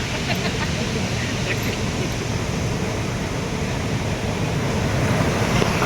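Steady roar of sea surf close by at the temple shore in Ganpatipule, a continuous wash of waves with wind buffeting the microphone throughout.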